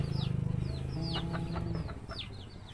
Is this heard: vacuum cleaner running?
no